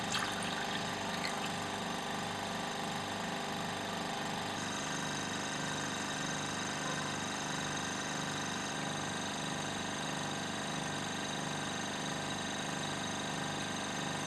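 A lab vacuum pump runs during filtration of adipic acid, a steady mechanical chugging hum with a rhythmic pulsing beat that shifts slightly partway through, continuous and alone with no talking.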